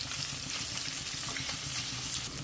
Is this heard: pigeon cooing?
no